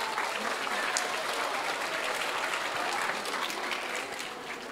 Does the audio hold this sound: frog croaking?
no